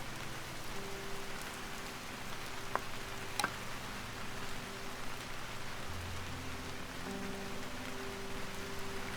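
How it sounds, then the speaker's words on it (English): Steady rain in a video game pattering on surfaces, a constant dense hiss, with a low hum underneath and a couple of faint clicks. "this rain is gonna make it hard to hear anything growling now"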